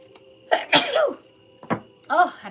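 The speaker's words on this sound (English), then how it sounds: "Oh, I had to sneeze." A person sneezes, with sharp bursts of breath and voiced catches in a quiet room, followed by a second softer sneeze-like burst.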